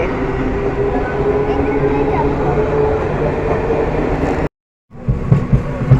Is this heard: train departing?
yes